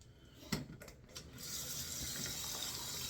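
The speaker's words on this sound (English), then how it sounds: "I'm going to put some more water in this lather" Water runs from a tap to add to shaving lather during a head shave, beginning with a few clicks and knocks before a steady faint splashing hiss settles in, quiet and without speech.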